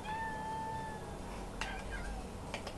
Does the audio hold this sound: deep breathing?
no